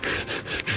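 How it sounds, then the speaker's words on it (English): Rapid back-and-forth hand sanding on boat corners made of Coosa board, about four quick rasping strokes heard up close with no talking. "detail sanding"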